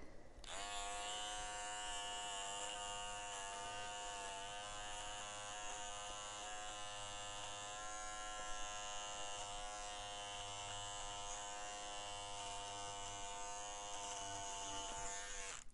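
Electric seam ripper cutting threads with its blades pressed against fabric seams, a steady close buzzing motor hum that runs without a break, faint changes in pitch as it touches and pulls, no talking.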